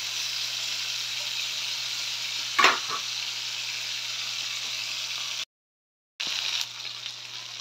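Food frying in a pan sizzles steadily and loudly up close. A brief clatter marks a stir partway through. The sizzle drops out for a moment and then returns.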